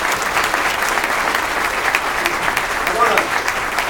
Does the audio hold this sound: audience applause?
yes